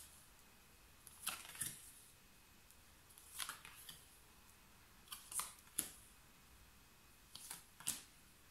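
Tarot cards laid down on a table in small clustered groups, each a soft, close flick and tap separated by quiet pauses, faint against a hushed room.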